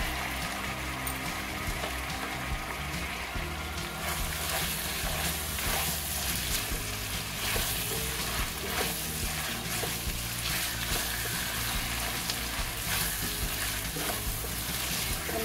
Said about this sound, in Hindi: मसालों के साथ टमाटर को सॉफ्ट करेंगे हम। इतना भुनेंगे कि टमाटर हमारे बिल्कुल सॉफ्ट हो जाए।